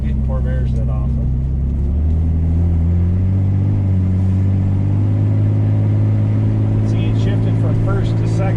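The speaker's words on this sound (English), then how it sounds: "Shifted from first to second in the middle of that corner." A 1965 Chevrolet Corvair Monza drives close by, its engine rumbling at steady mid pitch before the revs shift and settle as it goes from first into second gear mid-corner, with the drone continuing through the clip.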